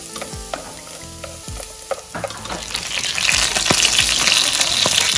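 Fat sizzles and spits loudly in a hot cooking pan, with utensil clinks and stirring over a steady crackle that grows fuller and louder midway through. No voices.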